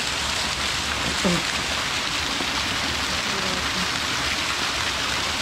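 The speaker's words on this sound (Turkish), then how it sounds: "Böyle güzel bir şelale işte." Steady broadband rushing of water at a waterfall in a mountain gorge, continuous and fairly loud, with a brief faint voice-like murmur partway through.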